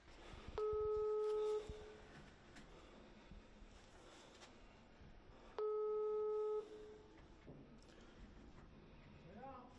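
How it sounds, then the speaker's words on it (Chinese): Telephone busy signal as a court enforcement officer calls a debtor from outside an unanswered apartment door: two long steady tones about five seconds apart, with faint room noise and brief background sounds between them. "执行法官准备给被执行人夏德伟打个电话"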